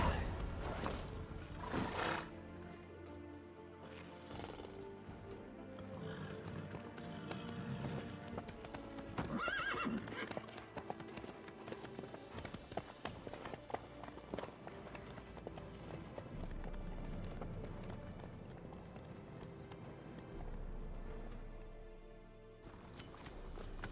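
Horse hooves clip-clopping in the video game The Witcher 3: Wild Hunt, steady walking steps under game music with a horse snorting and whinnying, voices speaking over parts.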